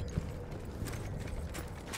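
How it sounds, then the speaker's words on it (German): Horse hooves clip-clop in the video game Battlefield 1, a brief muffled clatter of steps over a low rumbling game background. "Das ist ein Pferd!"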